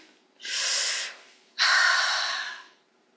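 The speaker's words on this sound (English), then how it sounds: "Take a deep breath" Someone takes a deep breath: a long, close inhalation followed after a short pause by an equally long, slightly louder exhalation, alone in quiet surroundings.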